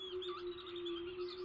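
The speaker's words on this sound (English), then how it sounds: "the birds in the background remind me of" Birds chirping in the ambient background of the realMyst video game, with warbling, repeated calls over a steady tonal hum. The sound is continuous, moderately loud and untouched by any speech.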